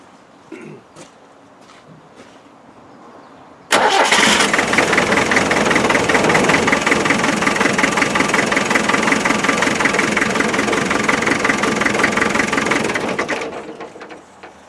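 A 1991 ex-MOD Land Rover 90 with a naturally aspirated 2.5 litre engine and an uncowled fan cranks and catches after a quiet start, then runs loud and steady with a knocking idle for about ten seconds before cutting off.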